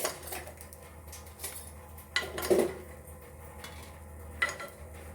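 Freshly cooked bhallas are lifted from a pan onto a plate, giving faint utensil scrapes and a few clinks against a quiet background hum, with no talk.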